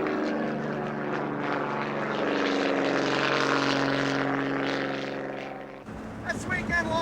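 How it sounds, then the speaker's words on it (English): Art Scholl's Chipmunk 2 stunt plane roars past at an airshow convention, a loud buzzing propeller engine that swells and then fades, followed by a short burst of other noise. "this is the great Art Scholl, and that's his sensational stunt plane, the Chipmunk 2."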